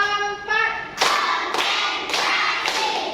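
Classroom of Indonesian schoolchildren clapping in unison on a count, four crisp group claps spaced about half a second apart after a brief spoken cue, loud and close.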